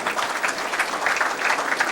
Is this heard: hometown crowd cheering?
yes